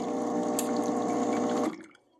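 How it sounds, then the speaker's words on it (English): An espresso machine, a Lelit Elizabeth, flushes water through its group head with a steady pump hum and rushing stream, then cuts off abruptly, leaving quiet drips. "then I flushed out the group head"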